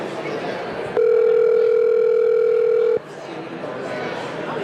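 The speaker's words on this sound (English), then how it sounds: "We're going to call just Olivia." A steady telephone dial tone rings out for about two seconds while a call is placed, starting and stopping abruptly, with chatter and room noise before and after it.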